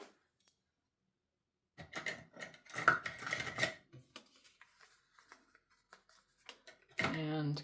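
A few short bursts of crisp snipping and paper rustling, close by, as small spring-loaded Fiskars scissors cut paper, with quiet gaps between them and a brief voice at the end.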